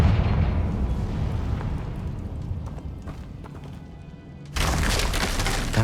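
Confringo spell cast in the video game Hogwarts Legacy: a sudden loud crash of an explosion bursting out after a stretch of rumbling, crackling game ambience, then a dense burst of noise sustained to the end.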